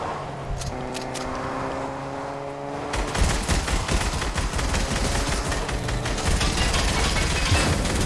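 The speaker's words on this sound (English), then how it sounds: "Okay, I'm screwed, so I'm gonna use the magic gun." Rapid gunfire from a magic gun in the Fortnite video game, starting after a few seconds of quieter game sounds and continuing as a dense, loud, steady burst of shots to the end.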